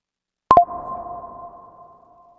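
A single short electronic chime for an incoming phone call, two quick tones ringing out and fading, clear and close with nothing else around it.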